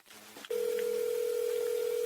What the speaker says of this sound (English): Nobody wants to answer the phone.